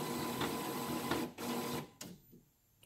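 An Epson WF-7710 inkjet printer being opened to fit a continuous ink supply system, giving a steady close mechanical whir with a few clicks and thumps, then a clack as it stops and quiet follows.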